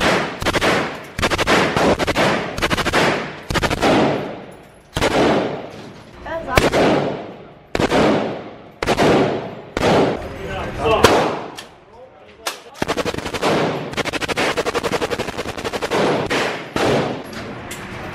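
Machine guns fire at a Las Vegas shooting range in loud, close bursts of rapid shots, each volley clearly separated by short pauses, some longer and some clipped, with speech mixed in.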